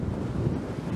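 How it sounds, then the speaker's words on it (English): Strong wind buffets an outdoor microphone during a stormy day by a motorized bike, a steady low roaring rumble with no other sounds. "Man, it's windy."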